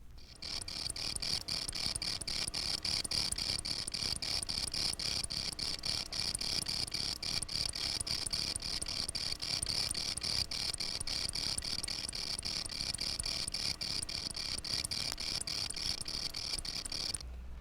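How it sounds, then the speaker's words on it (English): A field cricket's courtship song, a rapid, steady train of soft high chirping pulses that carries on evenly and alone for the whole stretch. "the field cricket has another, much different song, which it sings only in the presence of a female field cricket"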